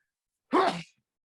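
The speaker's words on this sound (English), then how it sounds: "I'm gonna sneeze." A single sharp sneeze from a man on a comedy podcast, close and clear, lasting under half a second against otherwise silent surroundings.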